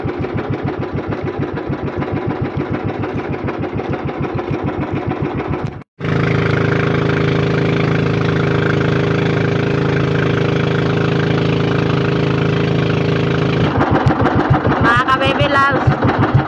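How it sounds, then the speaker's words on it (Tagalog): A motorboat engine drones loudly and steadily, briefly cutting out near the middle before resuming its constant mid-pitched roar, with some voices near the end. "Ang sarap sumakay dito sa bangka ni Eric, mabilis."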